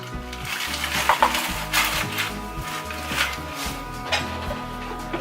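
Earth milk drink mixture containing dissolved coconut oil and a cup of ice being stirred, with repeated clinks and scrapes over a steady low hum, close by.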